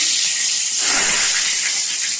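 Dried red chillies sizzle in hot oil in a wok, a loud steady hiss that swells briefly partway through and carries on alone without talk.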